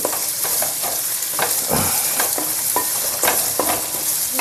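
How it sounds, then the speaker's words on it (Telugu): Onion and ginger-garlic paste sautés in a pan with a dense, continuous sizzle, broken by repeated scraping stirs from a spoon, close and fairly loud throughout. "అల్లం ఉల్లిపాయ పేస్ట్ అయితే ముందే వేసుకుంటున్నాను ఎందుకంటే మగ్గాలి కదా"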